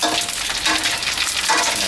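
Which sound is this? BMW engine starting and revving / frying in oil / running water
frying in oil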